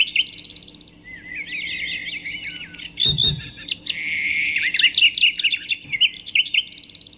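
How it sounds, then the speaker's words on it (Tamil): Two parrots call near a village house, a long run of shrill, warbling chirps and squawks over several seconds, with a brief clatter partway through and no talking. "என்ன இது, இந்த கிளி ஏன் இப்படி கத்துதுன்னு தெரியல"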